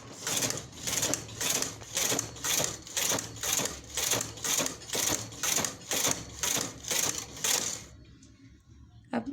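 A 008 sweater-lace knitting machine runs its carriage in a steady, regular clatter of about a dozen evenly spaced mechanical strokes, close and fairly loud, stopping near the end into quiet.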